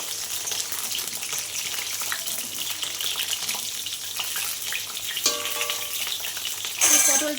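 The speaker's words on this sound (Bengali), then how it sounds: "আমি কড়াইতে আবার তেলটা দিয়ে দিচ্ছি দেখো তেলটা তো কড়াইতে দিয়ে দিয়েছি দিয়ে তেলটা গরমও হয়ে গেছে আমি পটলটা আগে ভেজে নেবো" Pieces of pointed gourd sizzle steadily in hot oil in a wok, a constant bright frying hiss with occasional clatter near the end.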